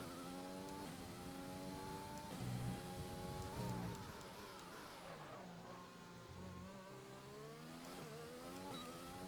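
F1 2020 video game race car taking turn 10 at Bahrain without trail braking: a steady high engine whine that drops and climbs through downshifts and back up again, continuous and fairly quiet.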